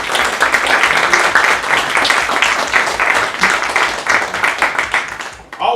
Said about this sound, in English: let's give a good round of applause to the folks